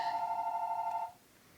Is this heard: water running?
no